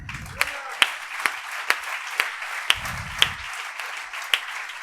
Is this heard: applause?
yes